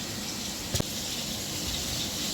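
Tap water running steadily while masoor dal lentils are rinsed, a soft continuous gushing stream with one brief knock partway through, no speech.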